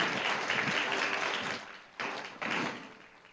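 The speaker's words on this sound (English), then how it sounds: "So once again, a round of applause." Audience applause at a forum closing and declaration signing ceremony, a broad wash of clapping that dips briefly and then resumes before fading.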